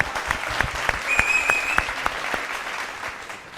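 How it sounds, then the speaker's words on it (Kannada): Studio audience applause for the accompanying instrumentalists on a televised Kannada singing show, a burst of fairly close clapping with some sharper individual claps standing out and a faint high tone above it. "ಸೊ ಅವರಿಗೂ ಚಪ್ಪಾಳೆ ಬರಬೇಕು."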